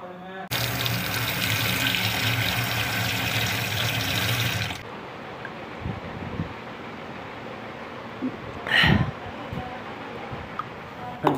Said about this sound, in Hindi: और थोड़ा सा मैं पानी पी लेता हूँ,